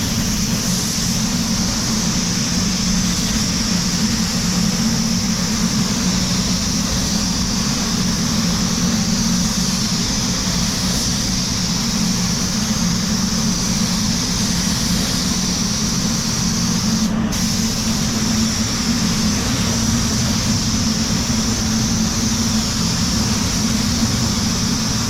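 Spray gun painting a Suzuki Vitara car door, a steady continuous hiss of atomized paint with a low compressor hum underneath, close and unbroken throughout with no talking.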